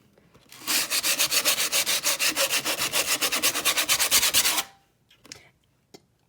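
Hand sanding: a steady, loud rasping scrub in rapid back-and-forth strokes for about four seconds, close up, then a few faint handling clicks.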